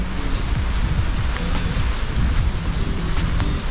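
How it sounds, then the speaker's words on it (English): Strong wind buffeting a microphone on the Oregon coast, a loud continuous roar and rumble with rain-like hiss and no voices. "It's windy."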